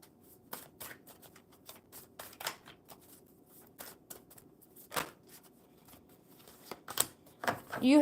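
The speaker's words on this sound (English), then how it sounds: "one more good shuffle." Oracle love cards shuffled by hand in scattered short riffling bursts, close and fairly soft, with a louder flurry near the end.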